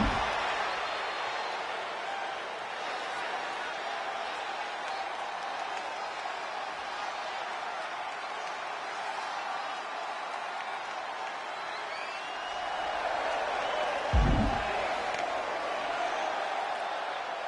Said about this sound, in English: She's getting the crowd fired up,